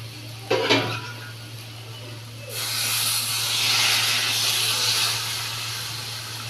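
Water poured into a hot pan of spiced curry hisses sharply, a brief splash first, then a loud, steady, broad steam hiss that swells and holds to the end over a low electrical hum.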